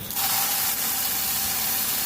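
Onion and garlic frying in a little oil in a pan, with green chili and black cumin (kalonji), giving a steady, even sizzle that runs close and continuous throughout with no talk.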